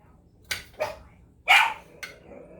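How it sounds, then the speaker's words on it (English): Indoors, a dog barks at a couch seat in a short series of about four sharp, close barks with uneven gaps. The third bark is the loudest. "Sometimes she will bark at the couch seat."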